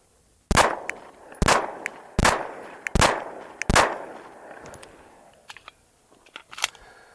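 Five sharp pistol gunshots ring out about a second apart at a range, fired at a target using a Meprolight MPO-F red dot sight, each loud crack followed by a short decay, then faint clicks and handling noise.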